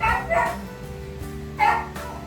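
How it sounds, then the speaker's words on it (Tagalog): A dog barks close by in a few sharp yips and bow-wows, with household hum underneath. "Ang ingay naman ng aso ni Mama."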